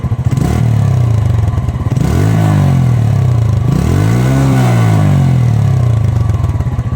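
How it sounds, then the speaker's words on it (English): Close, loud throaty exhaust of a TVS Radeon commuter motorcycle as the throttle is blipped twice, engine pitch rising and falling between a steady idle. "the Radeon has a very nice and throaty exhaust note."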